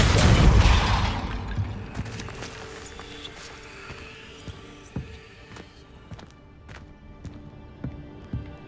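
Depulso spell cast in a Harry Potter video game, a loud burst at the start followed by a fading rumble, then scattered faint thuds and clicks.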